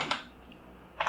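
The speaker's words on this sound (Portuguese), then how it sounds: "Vou digitar git checkout -b" Keys struck on a computer keyboard while entering a git command in a terminal: two short bursts of clicks, one at the start and one at the end, with a quiet gap between, close and alone.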